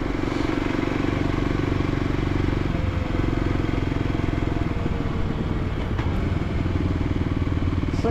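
A 2023 Kawasaki KLX 300 dual sport motorcycle being ridden, its engine giving a steady loud thrumming drone with a brief change in tone near the middle, mixed with wind rush.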